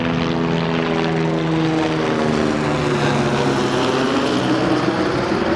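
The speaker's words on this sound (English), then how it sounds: "sorry for the helicopter there" A helicopter flies overhead beside a parked 2011 Ford Crown Victoria Police Interceptor, formerly a California Highway Patrol car. Its loud, steady rotor thrum and engine whine fill the scene continuously, with no talking.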